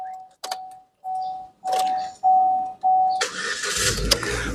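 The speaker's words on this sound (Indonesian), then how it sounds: "Oke, kita coba start mobil ya." A Chevrolet Spin 1.5 LTZ automatic from 2013 gives a series of steady warning chimes after the key goes in, then its engine cranks and catches into a loud, close idle.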